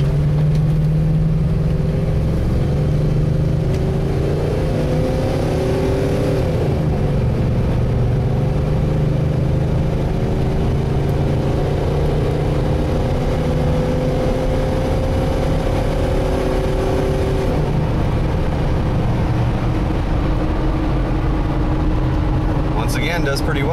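A 1996 Ford E-350 van engine revs up from a stop, its pitch climbing through gears over a long stretch, loud and close throughout, with talk underneath.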